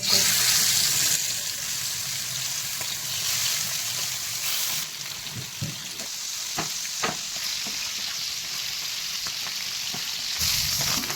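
Boubata fish fry in hot oil with a loud, steady sizzle, and a few sharp clinks and pops rise out of it midway.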